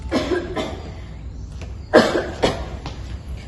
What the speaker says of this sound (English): Why keep coughing lately?